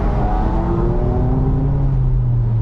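A C8 Corvette engine revs hard and then drops in pitch through downshifts, a loud, close, continuous roar with no talking over it.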